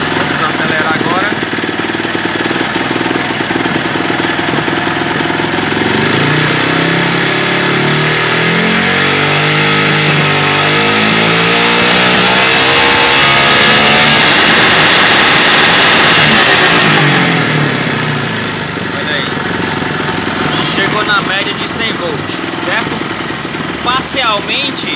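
Honda CG 150 motorcycle engine from around 2004–2008 revving steadily for a long stretch, loud and close, with rising and falling pitch sweeps in the middle and a slight drop near the end while the bike is tested in a workshop.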